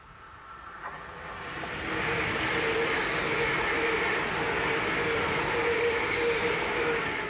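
London Northwestern Railway Class 350 electric trains passing, a broad rushing rumble that swells over the first two seconds and then holds steady and loud, with a faint tonal whine running through it.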